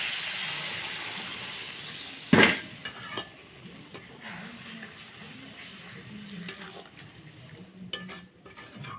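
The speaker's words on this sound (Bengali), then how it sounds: "এবার আমি জল দিয়ে দেবো, অল্প জল দেবো।" Water poured into a pan of frying shankar (stingray) fish curry, giving a sharp splash and hiss followed by steady low simmering sizzle with occasional utensil clinks against the pan.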